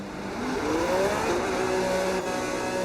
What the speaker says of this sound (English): I love the engine sound of this Red Bull, guys.